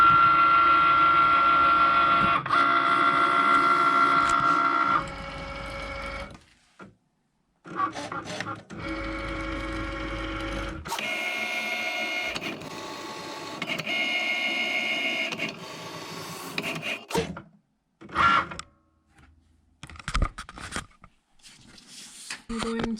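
A Cricut Maker cuts a 5x7 birthday card, giving a steady mechanical whir and hum, then stop-start motor movements and clicks as the carriage travels, fairly close and with no one talking.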